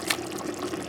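A short, close wet splash and trickle as taro leaves are poured into a simmering Ghanaian stew, with no talking.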